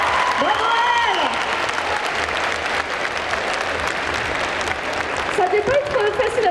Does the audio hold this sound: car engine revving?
no